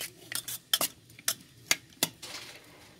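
Onion and carrot stirred in a pot for tomato pulav, a spoon scraping and clinking against the metal in five or six sharp, irregular taps over a soft background, close by with no talking.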